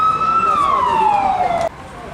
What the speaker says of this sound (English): we got a ambulance coming through.